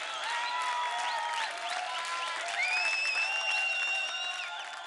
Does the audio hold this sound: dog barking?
no